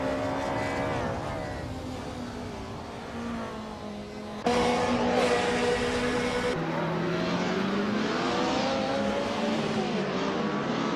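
AI-driven race cars in a racing video game, including a 1990 Mercedes 190E Evo 2, roar past with rising and falling engine notes, then a louder, brighter engine surge as the sound shifts mid-pass; no talk.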